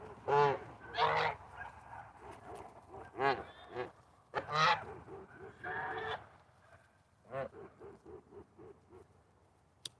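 Geese honk loudly in repeated bursts, several birds calling close by with short pauses between outbursts.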